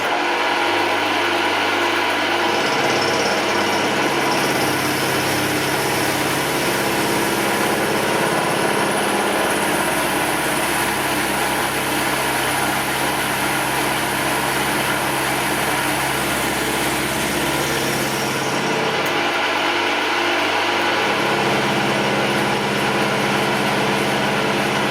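An end mill cuts steel on a milling machine in a home workshop, a steady high whine and grinding drone running continuously for most of the time, dropping briefly near the start and end as the cut eases.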